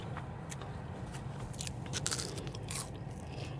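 Chick-fil-A fries are bitten and chewed close to the mouth, several soft crunches and crackles over a quiet room hum, faint and intermittent with no talk.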